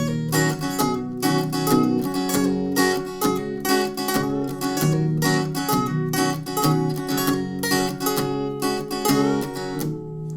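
An electric or acoustic guitar plays the lead part of a country-pop song: a repeating picked melodic line of clear, evenly spaced notes, close and solo for about ten seconds without talk.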